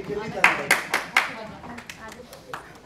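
A handful of sharp, scattered handclaps from an audience at a gathering in Lahore, welcoming a speaker, with voices murmuring underneath before the clapping thins out.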